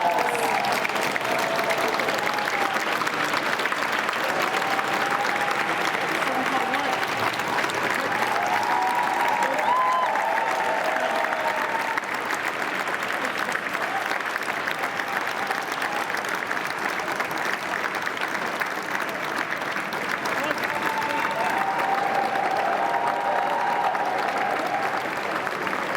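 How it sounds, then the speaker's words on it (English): A large crowd claps continuously as a new Prime Minister arrives, a long, unbroken wash of applause with scattered cheers and faint voices mixed in, steady and fairly loud throughout. "You can hear the applause, and that applause is about to get even louder as the new Prime Minister arrives."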